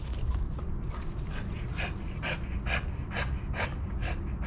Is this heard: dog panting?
yes